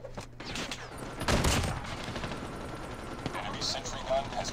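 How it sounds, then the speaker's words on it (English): Automatic turret fire in the mobile shooter Call of Duty Mobile, a dense burst of gunfire rising around the middle of the clip amid a busy mix of game battle noise, with a faint voice underneath. "Oh, that's a turret."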